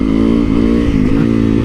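A modified motorcycle revs hard on a residential street. The engine roars loud and close without a break, with its pitch rising and dipping as the throttle opens, and no speech is heard.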